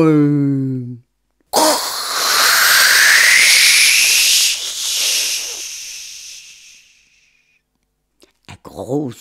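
A voice imitates a dragon's fire flame in a fairy tale with a long, loud, rushing hiss that swells and slowly fades over several seconds, framed by brief vocal sounds before and after.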